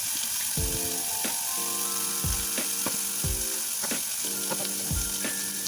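Tomato and salt being mixed in a frying pan: a steady sizzle of frying under repeated scraping stirring strokes, spaced roughly evenly and fairly close.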